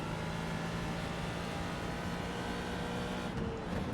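A Corvette GT race car passing in the iRacing simulator at Silverstone, a steady droning engine note that stays fairly constant with a slight shift near the end, quiet in the mix.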